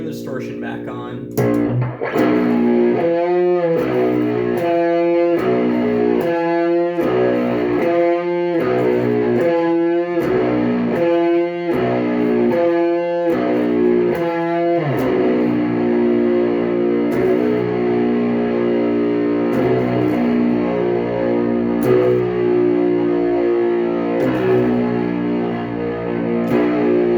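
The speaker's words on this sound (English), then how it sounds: "let's turn the distortion back on." A distorted electric guitar plays loud, sustained chords, first in a rhythmic chugging pattern of repeated stabs, then ringing out more continuously.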